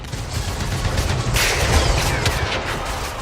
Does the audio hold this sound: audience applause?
no